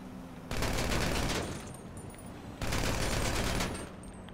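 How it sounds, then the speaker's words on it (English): Submachine gun fire in Grand Theft Auto V, heard as two loud sustained automatic bursts of about a second each, separated by a quieter stretch of game ambience. "let me just use the SMG"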